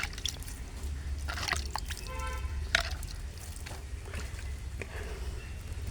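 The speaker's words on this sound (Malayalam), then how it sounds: "സൂഡോമോണസ് കലക്കിയ വെള്ളം നമുക്കിത്തിരി തെളിച്ച് കൊടുക്കാം." Water mixed with Pseudomonas is sprinkled onto sprouting onion plants, giving faint, scattered drips and light splashes over a quiet background.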